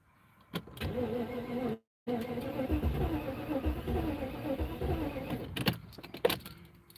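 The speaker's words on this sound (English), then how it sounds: "Let the fuel pump spool up a couple times." A classic car's fuel pump whines as it primes, with a brief gap, followed by a low, uneven engine hum and a few sharp clunks near the end, all close and fairly quiet.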